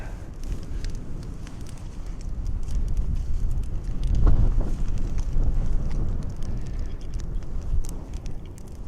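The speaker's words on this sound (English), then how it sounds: "the wind's starting to pick up quite a bit" Wind picks up outside a winter hot tent in the snow, a low rumbling gusty roar that swells midway, with faint flapping and rustle throughout.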